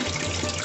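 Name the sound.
washing soaked rice in water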